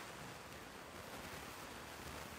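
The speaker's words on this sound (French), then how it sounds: "il n'y a que le bruit de l'eau" A river flows beside a quiet riverside campsite in Corsica, a steady, soft rush of water with no other sounds over it.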